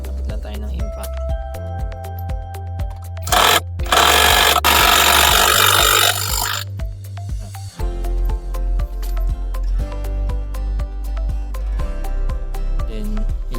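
Impact wrench loosening the CVT nut on a Honda PCX 160 scooter, giving a loud rattling burst in the middle of a stretch of mechanical clatter and tool handling.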